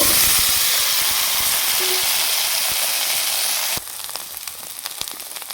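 Washed mixed vegetables drop into hot oil with a loud, steady hissing sizzle that cuts down abruptly partway through to a softer, crackling fry.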